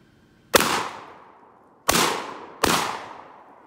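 A Rock Island Armory VR60 shotgun fires three loud, close booms at a clay target, each with a ringing outdoor decay; the first stands alone, and the last two come in quick succession.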